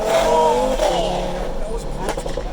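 Audi RS3 Stage 3 tuned to over 700 hp accelerating hard, a loud engine roar that swells then eases as it builds speed, with people talking over it.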